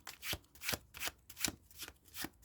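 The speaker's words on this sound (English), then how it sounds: "Feels good to shuffle." Tarot cards from a Tarot of the Divine deck riffle in repeated shuffles, about seven quick papery bursts in a steady rhythm, close and fairly quiet with no talking.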